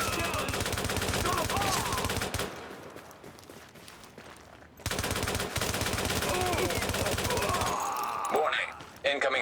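Sustained automatic gunfire pours onto supplies in The Division, a rapid rattling fusillade that runs for over two seconds, breaks off, then resumes heavily, with a voice speaking over the shooting.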